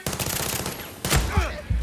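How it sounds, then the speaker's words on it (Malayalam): Gunfire in the video game Far Cry 6, a quick burst of rapid shots followed by a couple of heavier blasts, loud and close over a short span. "അയ്യോ വെടിയുണ്ടോ"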